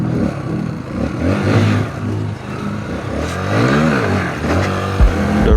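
A motorcycle revving hard on a dirt road near Mount Coree in the Brindabella area, a loud, close engine that surges, dips and rises again with wind rush and some clatter.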